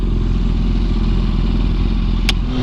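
A small 360cc cafe racer style motorcycle runs steadily close by, its engine drone continuous and loud throughout with a brief high clatter near the end; no one speaks.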